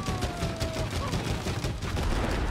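Rapid gunfire in the co-op game It Takes Two, a dense stream of popping shots over background game sound, fairly loud throughout.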